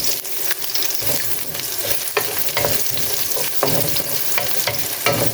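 Onions sizzle and fry in an oiled pan while being stirred, a steady crackling hiss broken by scraping strokes of the spatula, close and fairly loud with no voices.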